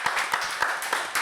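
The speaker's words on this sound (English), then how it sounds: "Can we have a round of applause for Jack?" Sparse, uneven hand claps from a small audience at a Tea Breaks and Beats music session, welcoming Jack, a handful of distinct close claps rather than full applause.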